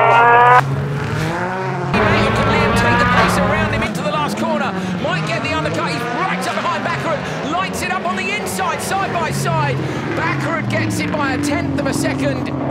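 Rallycross race cars roar and slide across a loose surface, engines revving hard and tyres squealing up close, under fast, excited commentary.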